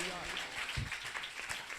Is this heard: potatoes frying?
no